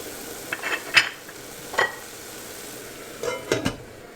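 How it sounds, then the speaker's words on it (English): Softening tomatoes being stirred in a pot for vegan moong dal tadka, heard as a few soft, scraping strokes of a spoon spaced across the clip over a faint steady sizzle. "Don't forget to stir the tomatoes every now and then to make sure they're not sticking at the bottom."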